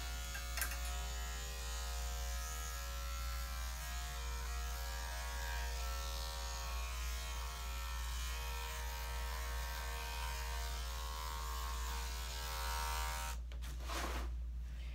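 Steady electric dog grooming clipper buzz, from clippers in need of oiling, runs continuously at close range on a poodle, a constant motorized drone with a few brief clicks near the end.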